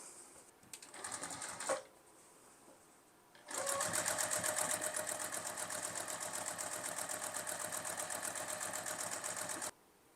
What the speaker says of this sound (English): I go ahead and run my stitch all the way off the end of the fabric on the other side